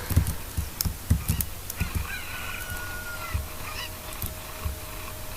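Chicken clucks from The Legend of Zelda: Ocarina of Time come in short bursts over a steady low hum, with a few faint higher tones in the background.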